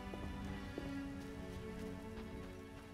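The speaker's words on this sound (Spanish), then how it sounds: "Y está empezando a llover, para variar." Steady rainfall patters in The Witcher video game, a soft broadband hiss of drops with a faint low hum beneath and no voices.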